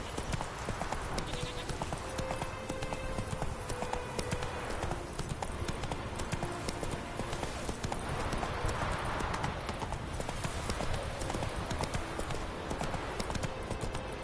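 Horse hooves clip-clop steadily at a walking pace in the video game The Witcher III: Wild Hunt, an even rhythmic clatter layered over continuous game ambience.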